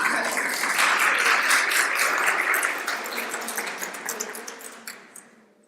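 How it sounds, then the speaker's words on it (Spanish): Audience applause at a church talk, a dense crowd clapping loudly and steadily before gradually thinning and fading out. "Un aplauso para todos."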